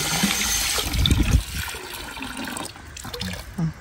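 Water runs and splashes at a well where water is drawn for watering plants, a steady gush that rises and then tapers to trickles, with faint background noise.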